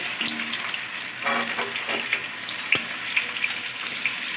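Mango pieces dropped into a hot pan for a sweet mango pickle, giving a crackling sizzle with scattered sharp pops and splashy bursts, moderately close and with no talking.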